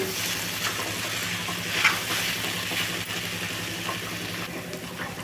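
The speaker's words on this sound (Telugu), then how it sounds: "మధ్య మధ్యలో ఇట్లా కలుపుతానైతే వేయించుకోవాలండి" Chopped ivy gourd (dondakaya) fries in a pan while it is stirred now and then. The sizzle is steady and close, with spoon scrapes over a low hum in the background.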